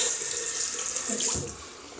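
Water from a tap runs steadily into a sink while a Merkur Vision safety razor is rinsed, giving a loud, close, continuous splashing rush that softens slightly near the end.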